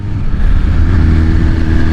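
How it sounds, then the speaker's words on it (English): A Ducati Panigale V4 motorcycle exhaust revs loudly and close up, a deep, rumbling, sustained engine roar that swells and holds steady without voices. "I still haven't gotten over the exhaust on this bike. It still sounds so good."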